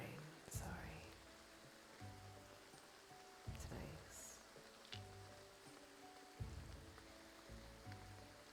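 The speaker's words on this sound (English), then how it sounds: "I'm just enjoying the sound of the rain." Rain ambience in the Graveyard Keeper video game makes a soft, steady patter and hiss with scattered sharper drips and clicks, while a voice speaks quietly over it.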